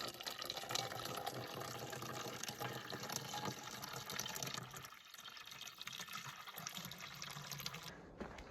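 Water running at a trail water source on the Pacific Crest Trail, a continuous close splashing flow with a brief dip in the middle and no talk.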